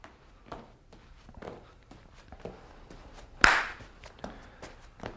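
One sharp, loud hand clap cuts through the rhythmic shuffle and tap of a boxer's footwork during a quickness drill, with light steps continuing before and after.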